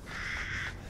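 Crows caw in the Resident Evil Village video game, a single drawn-out harsh call lasting most of a second, fairly close and clear over a faint ambient background with no talking.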